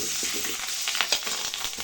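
Rampe (pandan) leaves sizzling in hot oil for biryani, a brief loud crackling fry with a few stirring scrapes near the end, no voices.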